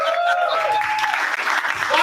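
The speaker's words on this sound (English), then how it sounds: "Clap until the poet gets to the stage." Audience claps for a poet walking up at an open mic night, a short, close burst of applause with a voice talking over it.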